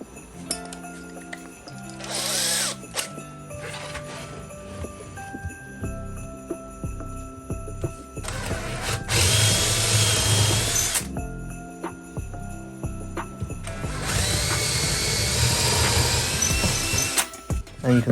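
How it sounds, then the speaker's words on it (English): A power drill with an 8mm bit bores holes while building a Christmas light organiser, sounding in two long whirring bursts. Clinks and knocks of handling sound between them. "And an 8mm drill bit to drill out the bottom two holes."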